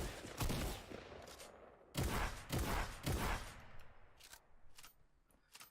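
Two shotguns in a video game fire in turn as loud, sharp blasts, several shots in uneven bursts with short gaps between them.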